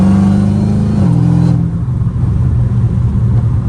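Supercharged V8 of a catless Dodge Challenger Hellcat Redeye with exhaust valves open revs in a loud, close, sustained roar that drops in pitch after about a second and a half into a deep, rough rumble on the street, with no talking.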